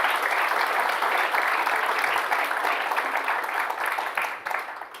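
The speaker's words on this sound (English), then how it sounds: "round of applause for all of our sponsors who made this possible" A conference audience claps for event sponsors, a loud sustained round of applause that tapers off toward the end.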